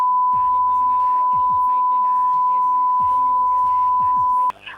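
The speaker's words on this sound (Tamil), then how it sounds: "அவ்வளோ பீப் சவுண்ட் போட்டு தான் அந்த வீடியோவை வெளியிட்டு இருந்தாங்க" A steady censor bleep tone runs almost unbroken over talk in a news clip about a political arrest, cutting off abruptly near the end.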